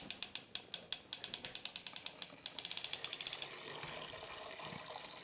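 A pulley ratchets as a grain basket full of wet grain is hoisted out of a 10 gallon brew system, with a rapid series of sharp clicks, then trickling and draining water.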